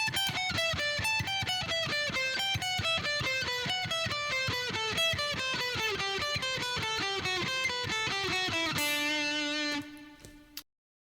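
Single electric guitar notes step evenly down a scale in a steady, even pulse, clean and close. A final note rings out before the sound stops.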